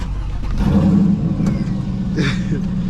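A Mustang GT V8 with headers, Bassani exhaust and Borla cat-back revs loudly and steadily up close, a deep throaty rumble that swells briefly before settling back.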